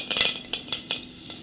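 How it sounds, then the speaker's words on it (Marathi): Curry leaves hit hot oil tempered with cumin, asafoetida and turmeric for a chickpea usal, giving a few sharp crackling pops and spits over a light sizzle, close and fairly quiet, with no voices. "जिरं नंतर हिंग आणि हळद आता त्यामध्ये आपण घालतोय कढीपत्ता"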